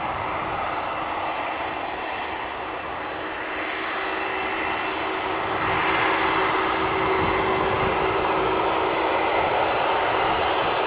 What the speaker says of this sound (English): 8154, Boeing 747-400 freighter, going to Chicago O'Hare.